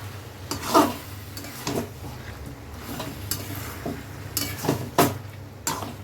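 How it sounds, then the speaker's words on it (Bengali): Jackfruit seeds are tossed into a spice paste in a hot pan. Soft frying sizzle sits beneath several sharp spoon scrapes and knocks against the pan, spaced irregularly and close up. "মশলাটা ভালো করে কষে নিয়েছি এবারে কাঁঠাল দানা দিয়ে দিলাম"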